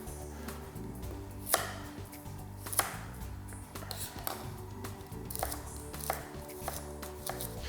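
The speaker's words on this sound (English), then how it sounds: "we want to chop these into long thin strips" Carrots being chopped into long thin strips for a salmon stir-fry, with a steady run of knife strikes on a board and a few sharper, louder chops standing out.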